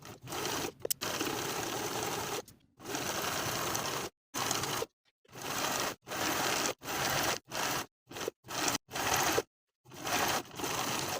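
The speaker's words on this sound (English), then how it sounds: "We're going to sew the sleeve in place with two sets of stitches" A sewing machine stitches a hoodie sleeve into place, running in a string of short, close bursts of whirring stitching separated by brief silent pauses.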